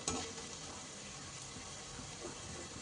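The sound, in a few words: turmeric, chili powder and salt frying in a pan for poha upma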